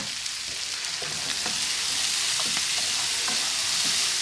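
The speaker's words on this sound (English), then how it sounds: "And again, give it a really good stir." Vegetables frying with ginger and garlic in a hot pan, a steady loud sizzle with occasional light taps and scrapes of stirring, no voices.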